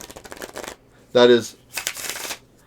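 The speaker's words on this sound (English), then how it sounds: "I brought in a deck of cards just so I can show that" Someone shuffles a deck of playing cards close by, with bursts of papery riffling before and after a brief spoken phrase.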